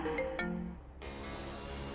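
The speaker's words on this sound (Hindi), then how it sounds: "तभी ज्योति बुआ की बेटी प्रीति का फोन आया।" A phone rings with an incoming call, a short electronic ringtone of bright tonal notes followed by a sustained synthesized tone, loud and close with no talk over it.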